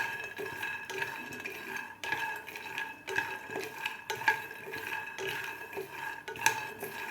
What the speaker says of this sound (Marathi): मिडियम गॅसवरच आपल्याला हे शेंगदाणे व्यवस्थित भाजून घ्यायचे आहेत